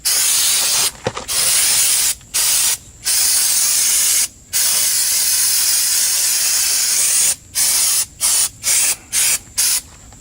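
Aerosol brake cleaner sprays onto the rear brakes of a 2002 Toyota Camry in a series of loud, close, hissing bursts, some long and some short, with brief silent gaps between presses.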